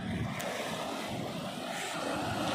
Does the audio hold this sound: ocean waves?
yes